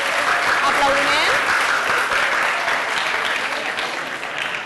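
Children in a classroom clap together in a lively burst of applause that slowly fades, with scattered young voices calling out over it.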